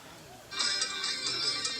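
A mobile phone ringtone starts suddenly about halfway through and keeps ringing as a bright, steady repeating electronic tune, fairly loud and close, with no talk over it.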